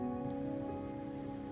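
Rain falls steadily in the Wuthering Waves video game, a soft, even patter with a low hum underneath, continuous and unbroken for the short stretch.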